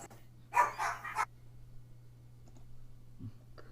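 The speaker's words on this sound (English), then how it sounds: "my dogs are barking" Dogs barking indoors, a short loud burst of several overlapping barks followed by quiet with a low steady hum and a faint later yip.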